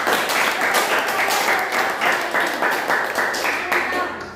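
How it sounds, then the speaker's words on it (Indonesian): Classroom applause from a group of students, a brisk, fairly even run of clapping that fills the space, loud and close, then trails off at the end. "Tepuk tangan semua."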